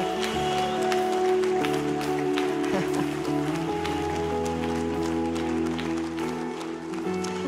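Sustained applause and cheering from a church congregation filling the room, steady clapping over ongoing background music, loud and continuous throughout.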